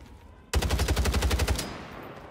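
Sniper gunfire in a Warzone Resurgence match: a sudden burst of rapid, evenly spaced shots lasting about a second, loud and close, then a fading tail with no talk over it.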